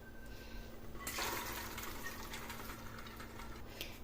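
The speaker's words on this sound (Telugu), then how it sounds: "ఇలా వాటర్ అంతా వడపోసుకున్న తర్వాత నీరుని పక్కన పెట్టుకోవాలి" Water from boiled cowpeas and green gram pours through a colander, starting as a faint trickle and then becoming a soft, steady splashing rush that continues quietly to the end.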